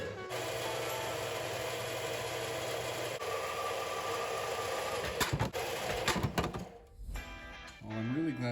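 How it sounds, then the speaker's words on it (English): A bandsaw cuts through steel in a shop, giving a continuous close grinding rasp with a steady motor drone that changes near the end as the blade finishes. Speech is faint or absent. "You just put it in the bandsaw."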